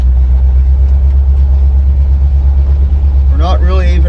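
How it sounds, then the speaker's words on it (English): A 1976 Chevy square-body truck with a 350 turbo transmission drives along, its engine a loud, steady low rumble heard from inside the cab, with a person beginning to speak near the end. "First drive in the 76 350 turbo swap."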